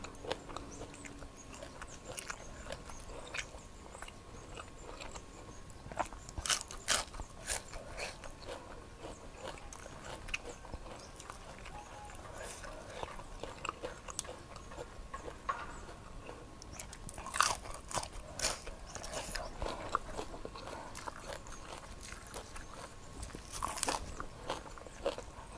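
Close, crunchy biting and chewing while eating a spicy Isan-style salad of big shrimp with olives and neem greens, served with rice, repeated wet crunches in an irregular rhythm throughout with no talk.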